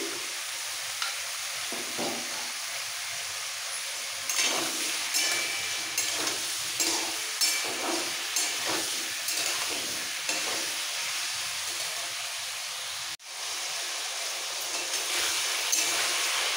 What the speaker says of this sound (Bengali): এই সবজিগুলো হালকা ভাজা হয়ে গেছে